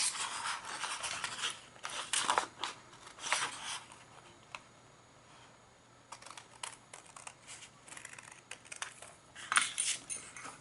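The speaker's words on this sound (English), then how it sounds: "I'm going to use my scissors instead of the trimmer" Scissors cutting wet card: a series of quiet, crisp snips and rubbing scrapes in two clusters separated by a pause, close up with no talking.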